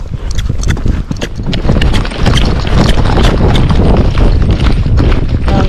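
Tennessee Walking Horse picking up a canter on a hill, its hoofbeats coming as quick, irregular thuds and clops close to the microphone over steady wind noise, without any voices.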